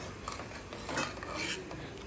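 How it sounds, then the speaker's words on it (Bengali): Thickening milk for ice cream is stirred constantly in a pot, giving soft repeated scraping and rubbing of a spoon against the metal base, close and quiet with no talk. "অনবরত নাড়তেছি"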